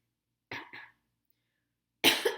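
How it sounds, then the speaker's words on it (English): Two quick coughs from a young woman, close and fairly loud, followed after a short pause by a harsher, louder cough burst; no talking. "I'm just a girl who coughs."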